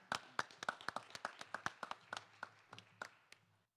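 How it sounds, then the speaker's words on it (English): Scattered hand clapping at a city council morning session, a dozen or so crisp claps from a small group, fairly faint and thinning out after a few seconds. "Let's give them a round of applause."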